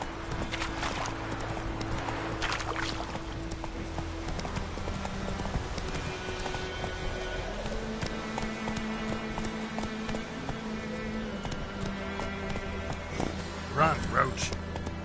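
Roach the horse gallops in a video game, a steady run of clip-clop hoofbeats carried over constant background music and ambience, with a brief whinny-like burst near the end.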